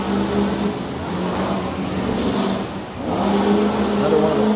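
A blue Ford F-150 pickup-bodied tough truck races at a tough truck event in Brookville, Pennsylvania, with its hood off, its engine roaring steadily at a distance with a dip and then a renewed surge.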